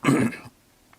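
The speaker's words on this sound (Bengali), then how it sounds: "হঠাৎ করেই কাশি অনেক বেশি হয়েছে।" A single short cough or throat-clearing burst from an adult man, loud and close, lasting about half a second and followed by quiet.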